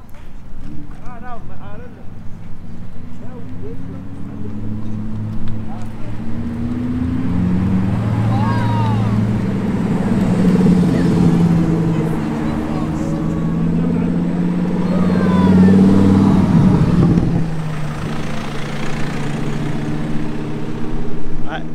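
Supercars arrive on a Monaco street in summer, their engines rumbling and revving as they pass close by. The loud, rising and falling roar builds and fades, with crowd chatter around it.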